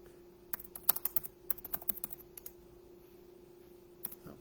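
A short run of crisp keystrokes on a computer keyboard, close and distinct, tapering off before one final tap.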